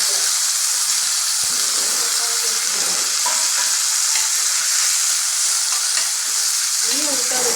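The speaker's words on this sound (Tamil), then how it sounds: "வெங்காயம் வந்து வதங்கிட்டு லைட்டாக வதங்கினா போதும்" Onions and curry leaves fry in a pan, giving a steady, loud, close sizzle that never lets up, with faint scrapes of stirring underneath and no talking.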